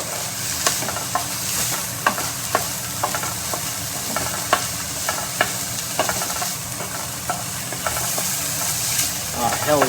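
Strips of fatty bacon fry in a pan for a Brazilian feijoada, giving a continuous loud sizzle broken by regular sharp pops and crackles, close up and with no talking.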